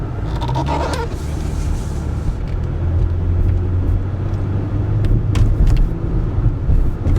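A RAM 3500 dually pickup truck running at a dealer auction, with a steady low engine rumble throughout and a brief faint clunk of a harsh-feeling shift, no speech.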